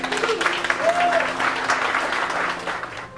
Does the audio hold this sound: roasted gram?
no